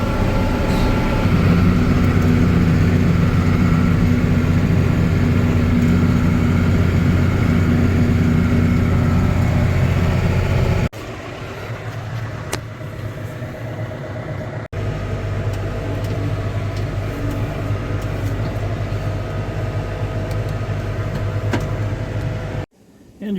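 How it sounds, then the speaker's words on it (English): A brand new Frontier W008 8-wheel hay rake pulled by a tractor during a final hay cut, with a steady loud engine and machinery drone that drops to a lower rumble partway through and continues without talk. "you're seeing the maiden voyage of a W008 Frontier 8-wheel hay rake"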